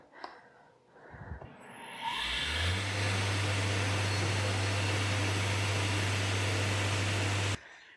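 A homemade CNC router in a small workshop starts up, rising into a loud, steady motor drone with a constant low hum and broad whine, then cuts off abruptly near the end.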